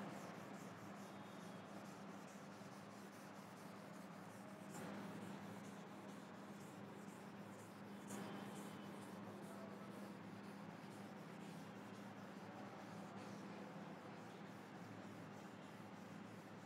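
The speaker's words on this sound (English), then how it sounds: "I will rub this formula to write the exercise." Someone erases a formula from a classroom board, and soft continuous rubbing and scrubbing strokes come close and quiet, with brief louder swipes along the way.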